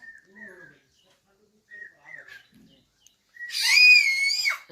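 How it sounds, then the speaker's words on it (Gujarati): A parrot calls from a tree on a farm near Gir forest: a few short, thin squawks separated by quiet gaps, then a longer, louder harsh screech near the end. "આપણા ટ્રી ઉપર પેરોટ બોલે છે"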